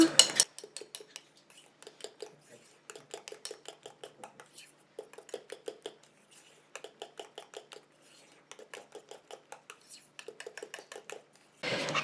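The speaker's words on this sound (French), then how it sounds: "Donc je vais prendre de l'eau et je vais en rajouter un petit peu. Et je mélange." A spoon clinks and scrapes rhythmically against a bowl while a homemade hair conditioner mixture is stirred after a little water is added, in repeated bursts of quiet stirring with short pauses between.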